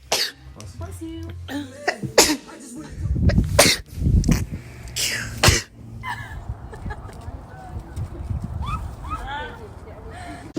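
Several close, loud human sneezes in quick succession along with coughing and throat clearing, then quieter background noise and brief voices afterward.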